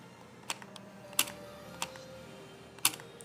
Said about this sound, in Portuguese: Então o barulho que vocês ouviram era do scroll travando ou destravando.